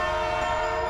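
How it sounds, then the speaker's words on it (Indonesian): An old train sounds a long whistle over a low rumble of rails, the horn tone holding steady and loud for the whole brief moment. "terdengar deru rel tua dan peluit panjang"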